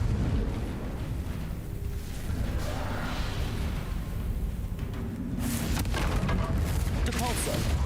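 Explosive blast from the Confringo fire spell in the Hogwarts Legacy video game, a dense roaring burst of rumble and crackle that flares again near the end over continuous game noise.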